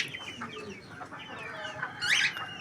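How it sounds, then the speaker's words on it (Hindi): A chicken clucks softly in a yard, followed by a louder squawking call near the end. "मुर्गे"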